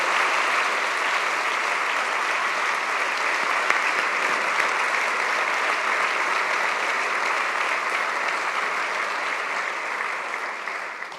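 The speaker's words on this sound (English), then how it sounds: "could I ask for a round of applause for our incredible" Sustained applause from a panel audience, dense and steady for over ten seconds, a large crowd clapping together without a break before fading slightly at the end.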